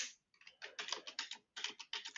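Quick bursts of typing on a computer keyboard, crisp and close, with short pauses between clusters of rapid key clicks and no talking.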